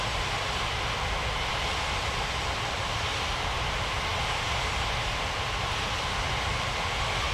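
An airliner taking off from a runway in an air traffic control video game, a continuous loud, broadband jet engine roar that stays steady throughout.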